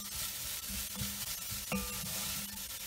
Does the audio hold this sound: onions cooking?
yes